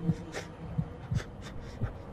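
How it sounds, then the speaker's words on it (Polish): A game character's heartbeat in the horror game SCP-087-E, rendered as a series of low, soft thumps spaced unevenly over a faint background hum, with no talk. "Bicie serca bohatera to jest kurde jeszcze bardziej przerażające"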